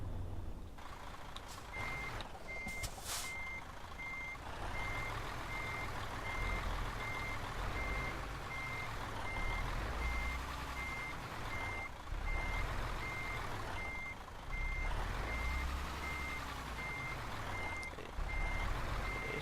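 Steady, evenly spaced reversing beeps sound from a truck backing up in the Euro Truck Simulator 2 game, heard alone over a low engine rumble.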